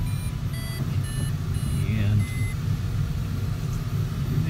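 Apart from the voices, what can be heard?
glider variometer beeping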